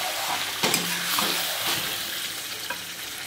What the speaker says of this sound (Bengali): চিকেনটাকে ভালো করে কষিয়ে নিলাম